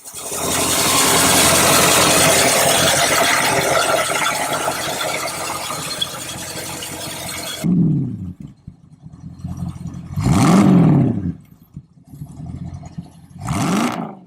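A 1968 Mustang with a 4.9-liter V8 idling: a steady loud engine rumble that cuts off, followed by three short revving bursts separated by quiet gaps.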